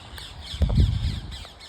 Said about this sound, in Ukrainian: на моєму фоні чути дуже багато папуг. Це папуга крамера.